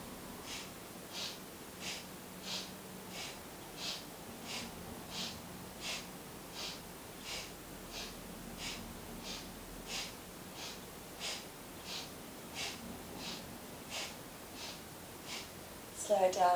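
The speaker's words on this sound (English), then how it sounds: "Keep that breath pattern going. Inhale left, exhale right." Slow, even alternate nostril breathing during a Kundalini and Hatha yoga exercise, soft nasal inhales and exhales repeating in a steady rhythm, close and quiet throughout.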